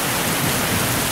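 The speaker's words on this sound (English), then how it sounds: "Sheets of rain." Heavy sheets of rain pour down in a dense, steady broadband hiss with no breaks and no voices.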